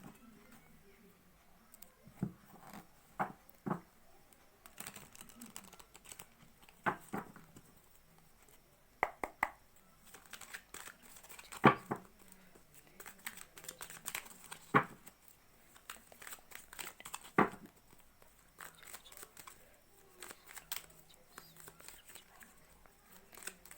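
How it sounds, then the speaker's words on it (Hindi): Tarot cards are shuffled by hand in a quiet room, giving soft intermittent riffling and flicking sounds in irregular bursts, close and faint throughout. "जब तक मैं शफल कर रही हूँ"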